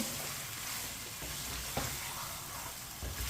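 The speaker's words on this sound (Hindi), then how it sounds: "अब चिकन को 4-5 मिनट के लिए हम पका लेंगे इसी तरह चम्मच चलाते हुए" Chicken with peas fries in a pan over high heat, a steady close sizzle with occasional scraping knocks from a spoon stirring it.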